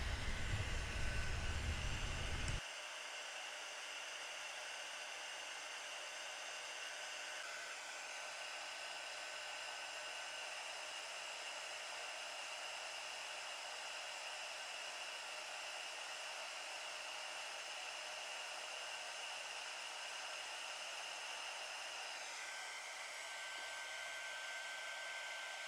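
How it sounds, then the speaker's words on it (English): A heat gun blows steadily during jewelry soldering of rhinestone earrings, a loud, continuous airy roar with a heavier low rumble in the first few seconds, near and alone, with no talking. "So you will be pulling the heat gun away just a tiny"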